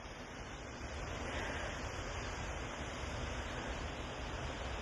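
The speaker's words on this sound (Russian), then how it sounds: "Вот и у нас пошла река." Spring ice drift on the Lena River near the village of Nizhny Bestyakh in Yakutia, heard as a steady, dense rushing roar of moving ice and water that holds level throughout, with no voices.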